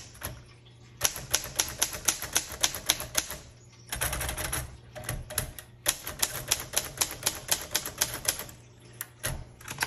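A 1947 Royal Quiet Deluxe typewriter types in two fast bursts of crisp, close keystrokes, separated by a short pause and punctuated by sharper strikes, with no voices.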